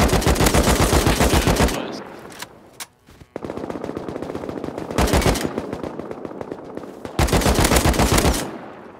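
Automatic gunfire in Rust crackles in long, loud sustained bursts, broken by a brief lull filled with scattered shots and mid-level shooting before another heavy burst.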